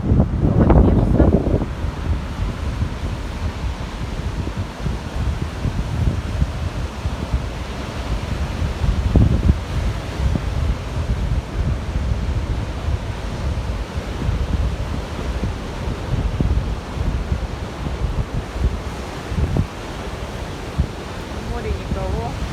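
Black Sea surf on a beach in Anapa rushes in a steady, loud roar while gusty wind buffets the microphone, with occasional heavier wave crashes.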